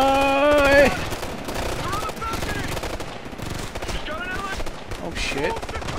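Rapid automatic gunfire rattles in Ghost Recon Future Soldier, with bursts of machine-gun shots layered with game effects and tones, while players talk over the action.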